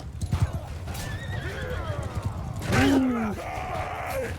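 Horses whinny and neigh over steady hoofbeats and a busy background din during a cavalry charge in the game Mount and Blade II: Bannerlord, with one shrill, prominent neigh near the middle.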